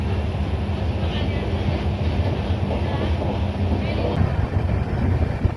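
Kirandul–Visakhapatnam passenger train rolling through the Koraput–Araku route, a steady loud rumble with rattling from inside the carriage.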